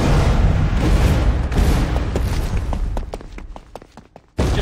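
A TNT explosion in Minecraft Story Mode: Season Two bursts as a loud, deep rumbling boom that slowly fades, with scattered crackling debris after it and then a sudden cut.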